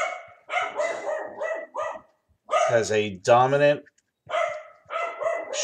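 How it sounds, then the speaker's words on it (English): A dog barks repeatedly in loud, harsh bursts mixed between stretches of someone talking. "How many of you hear the dog barking like a maniac?"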